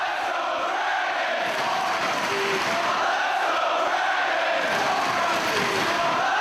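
A wrestling crowd in a Chicago arena roars during a title match. The cheering is a continuous dense wall of shouts, distant and sustained, with occasional louder yells rising out of it.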